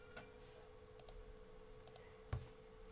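Computer keyboard being typed on into a terminal: a few faint, sparse key clicks spaced irregularly over a low steady electrical hum, quiet and close.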